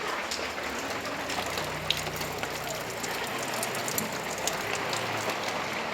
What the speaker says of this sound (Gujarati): વરસાદ આવે છે બહાર.